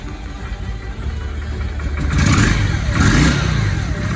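A Honda VRX400 motorcycle engine, just after a carburetor rebuild, runs close by at a rough, steady idle under 1,000 rpm, its rumble swelling slightly louder partway through, with no voices.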